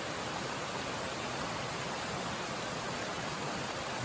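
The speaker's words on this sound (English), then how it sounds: "We've got to capture a moment of this brook." A brook flowing on the Appalachian Trail, a steady, close rush of water forming an even, unbroken hiss with no voices.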